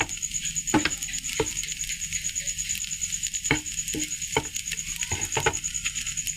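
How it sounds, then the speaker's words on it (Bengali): Semai vermicelli fried in a pan with sugar, a continuous sizzle broken by several sharp scrapes and stirs of a utensil, close and loud, with no talk. "এই সুন্দরভাবে সেমাইটা এখন ভাজা হয়ে গেছে সব কিছু দিয়ে"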